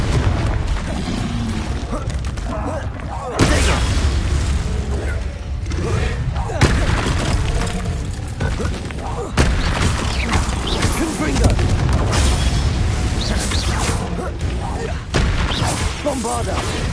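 Confringo fire spells exploding in Hogwarts Legacy, heard as loud, repeated booming blasts and crackling impacts that run without a break through a noisy spell battle, with a voice calling out over the din.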